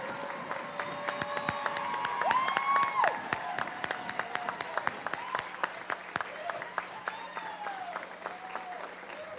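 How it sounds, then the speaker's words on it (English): An awards-meeting audience breaks into a long round of applause for the competitors, dense clapping throughout with a swell of cheering and scattered voices near the middle. "I would like to have a great round of applause for all of the competitors who competed yesterday."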